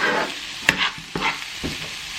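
Jackfruit frying in oil in a pan with salt and pepper, a close steady sizzle broken by a few sharp scraping stirs of a utensil against the pan.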